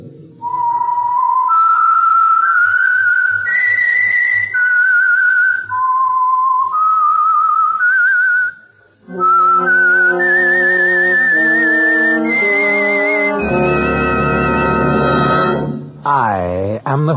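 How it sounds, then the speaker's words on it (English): A lone whistler carries a slow, eerie melody for the Signal Oil radio program The Whistler, clear and close. Sustained notes step up and down, joined toward the end by a fuller orchestral accompaniment before a closing swoop. "That whistle is your signal for the Signal Oil"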